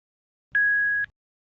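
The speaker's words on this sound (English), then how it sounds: "press and hold the tone button on the soundball until you hear an audible beep" A single steady electronic pairing beep from a HearSound Soundball sounds for about half a second, clean and pure in tone, with silence before and after.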